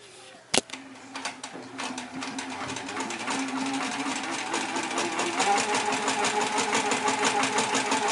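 A Handi Quilter Sweet Sixteen sewing machine does free-motion quilting with one sharp click, then a fast mechanical stitching rattle that builds and holds steady at close range, with no voices.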